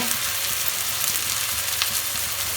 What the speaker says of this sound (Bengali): ভালোভাবে মশলাটা কষিয়ে নেব এখন আমি